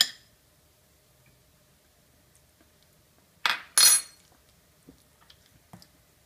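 A metal spoon clinks sharply against a bowl twice in quick succession while roasted eggplant and garlic dip is tasted, followed by a few faint soft taps in an otherwise quiet kitchen.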